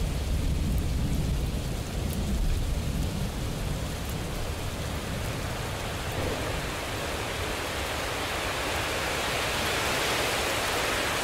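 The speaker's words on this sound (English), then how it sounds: "let the powerful sounds of thunderstorms and rain serve as a backdrop to" A heavy thunderstorm with dense, steady rain pouring on surfaces and low rumbling thunder rolling underneath, loud and continuous without a break.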